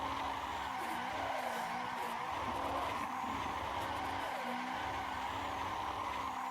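Car doing donuts in Assetto Corsa, a steady engine drone with wavering tire squeal as the car circles in first gear, continuous and moderately quiet.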